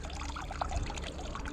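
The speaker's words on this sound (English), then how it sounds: "Throw the water out" Water is tipped out of a prawn bait container by a river, a short, close, steady pour and splash heard alone.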